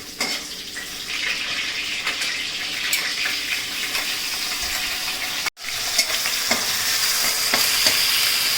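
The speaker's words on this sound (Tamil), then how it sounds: "அந்த விழுதுகள்லாம் சேர்ந்து கலக்கும் போது அந்த எசன்ஸ் அப்போவே ஆரம்பிக்கும். வதங்க ஆரம்பிச்சிச்சு" A spice paste for home-made mushroom biryani sizzles and fries in a pan while being stirred, a steady close crackle with scraping strokes and one brief break midway.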